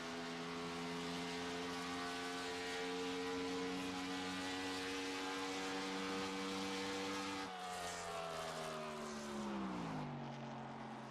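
A race car engine drones steadily through a lap of Pocono Raceway in iRacing, holding a high sustained pitch before dropping sharply as the car slows into a corner, then climbing again; loud and continuous with no talk.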